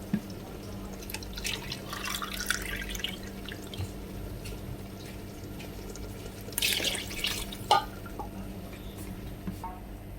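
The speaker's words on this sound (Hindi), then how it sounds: "अभी हम इसमें पानी ऐड करेंगे" Water splashes and trickles into a cooking pot of chana pulao in uneven bursts, with drips and a louder gush partway through, over a low steady hum.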